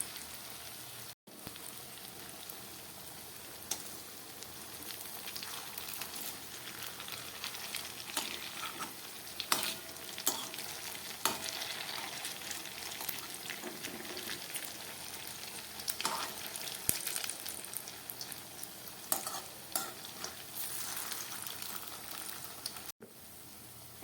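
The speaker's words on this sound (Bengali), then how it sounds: "মোচার বলগুলো সব আমি একসঙ্গে দিয়ে দিলাম, গ্যাসটাকে কম করে দিলাম। এবার আস্তে আস্তে ভাজা হোক।" Banana flower (mocha) balls fry slowly in oil over a low gas flame, making a quiet, continuous sizzle and crackle with scattered small pops throughout.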